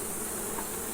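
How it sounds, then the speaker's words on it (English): A dense, steady buzz of many honey bees on a hive frame from a failing colony, close and continuous, with no talking. "There's some bees in it,"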